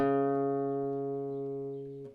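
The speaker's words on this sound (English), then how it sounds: "we need this string, the 4th, to sound one or actually half a tone lower" A single plucked fourth guitar string, tuned a half step down, rings out clearly and slowly fades over about two seconds, alone and close.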